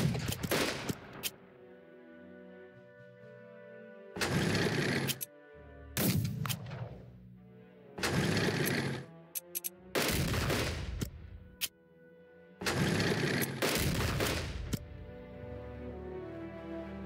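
Bombing and gunfire in the strategy game Unity of Command 2, heard as several loud bursts of rattling fire and explosions separated by near-silent gaps, each burst lasting a second or two.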